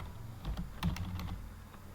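Keys clatter on a computer keyboard in a short, quick burst of close, light clicks while commands are typed into a Linux terminal, followed by a quiet pause.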